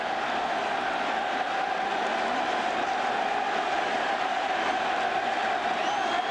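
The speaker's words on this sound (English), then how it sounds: "You hear the crowd booing Justice." A stadium baseball crowd boos David Justice at a 1998 Indians ALCS game, a steady, loud, sustained roar of massed voices that holds without a break throughout.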